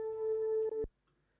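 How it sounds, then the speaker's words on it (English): A cloud piano plays a counter melody as one steady, pure-toned sustained note with faint overtones. It cuts off abruptly and leaves near silence. "another counter melody going on with the cloud piano"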